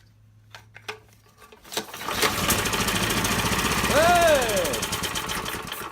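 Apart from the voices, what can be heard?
small generator engine running after carburetor fix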